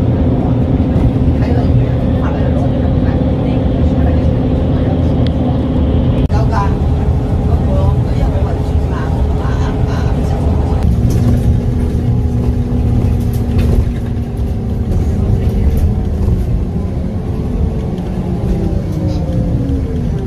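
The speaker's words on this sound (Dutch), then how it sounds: "Dus dat is de bus 20 komende uit Goes via Terneuzen." Line 20 city bus from Goes via Terneuzen pulling into Hulst bus station, its diesel engine a steady loud rumble with shifting tones as it arrives, with people talking over it.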